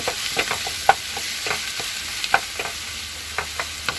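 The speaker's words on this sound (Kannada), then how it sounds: "ಹಸಿ ವಾಸನೆ ಹೋಗೋವರೆಗೂ ಹುರ್ಕೋಬೇಕು ಇದೆಲ್ಲ" Masala with onion and green chilli fries in a pan for kushka rice, giving a steady close sizzle, with repeated clinks and scrapes of a spoon stirring.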